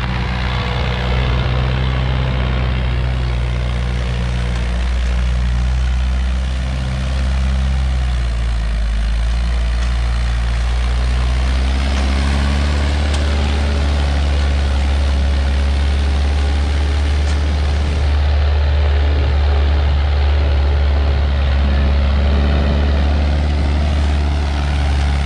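A 1972 McCormick International B276 tractor runs in gear with a steady, loud low diesel drone, its engine note shifting slightly partway through as it keeps chugging continuously for the whole stretch.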